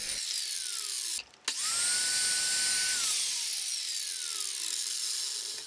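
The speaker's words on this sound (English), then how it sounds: "I'm now going to cut the miters, making sure opposite pieces are the same length" Mitre saw spinning up and slicing through Valchromat picture frame stock, a loud whine that dips briefly, then rises into a sustained high cutting tone before winding down, close and without talk.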